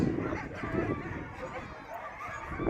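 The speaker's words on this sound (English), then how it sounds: "And we have an inbound dog team." A sled dog team in an eight-dog race arrives at the finish in Tok, Alaska, with excited yips and barks among crowd noise and a voice talking throughout.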